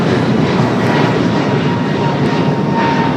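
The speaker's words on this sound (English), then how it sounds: "Flight heading to Dallas Fort Worth, Texas, in an A321neo" An Airbus A321neo jet departs runway 25 right at Los Angeles airport bound for Dallas Fort Worth, a loud, steady engine roar with a faint whine running through it for the whole stretch, close and unbroken.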